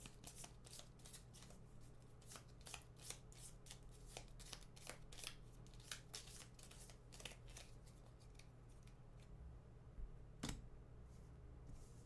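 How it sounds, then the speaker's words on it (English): A deck of cards is reshuffled during a tabletop game of Final Girl, giving steady, faint riffling and crisp flicks over about twelve seconds with no talking. "So I'm going to reshuffle."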